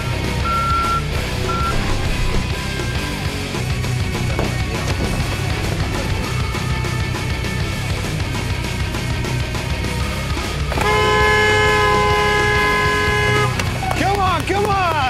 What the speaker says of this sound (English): what's up with all the trucks?